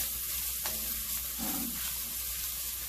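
Sweet paprika sizzles in a hot pan as it roasts and is stirred, a soft steady crackle with a brief scrape of the spoon partway through, heard alone without talking.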